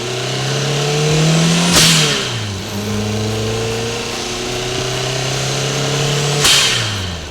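A Renault 5 with old-school Spax suspension revs hard on a racetrack, its engine note climbing and dropping through gear changes, with two sharp upshift peaks several seconds apart, loud and close.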